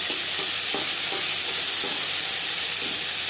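Mustard seeds splutter in hot oil as chalta (elephant apple) pieces are added to the frying pan for masoor dal, producing a loud, dense, continuous sizzle with faint scattered pops.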